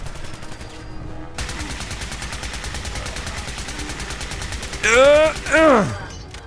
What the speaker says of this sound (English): Ada, how about you shoot that guy?